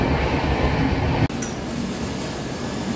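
The 12042 Shatabdi Express is heard from inside the chair car as it crosses Barsoi Junction: a steady, loud rolling rumble of wheels and carriage, broken by one brief sharp dropout before the rumble resumes.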